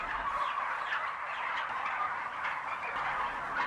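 A dense chorus of many farmed turkeys gobbling and calling at once in an intensive rearing shed, a steady crowded din of bird noise with no voices.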